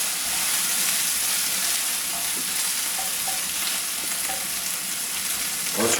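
Prawns fry in a pan for spaghetti with gambas, giving a steady, close hiss and sizzle throughout, with faint scraping as they are pressed down and a brief louder scrape at the very end.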